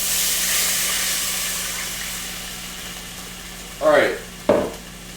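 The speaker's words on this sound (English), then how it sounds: "And then we're doing our deglaze, right?" Pan-cooked chicken being deglazed, steady sizzling hiss that fades slowly, then two short loud bursts of steamy sputter near the end, close by with no voices.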